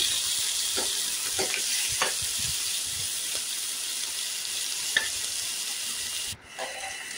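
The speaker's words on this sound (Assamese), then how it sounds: "কেৰাহীত মই এনেদৰে তেল অকণমান দি গৰম কৰি তাতে বিলাহীৰ, পিঁয়াজ, ৰচুন, জলকীয়া আটাইখিনি অকণমান ভাজি লৈছোঁ" Tomato, onion, garlic and chilli fry in a little hot oil in a wok, giving a steady, close sizzling hiss with occasional soft stirring clinks before a brief drop near the end.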